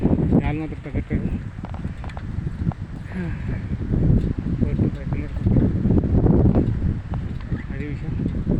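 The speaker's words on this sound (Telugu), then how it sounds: "గాలి మాత్రం తగ్గట్లేదు" Strong gusting wind roars across the microphone of a bicycle ridden on a long-distance road trip from Hyderabad toward Arunachalam, a dense, continuous low rumble with faint voices buried beneath it.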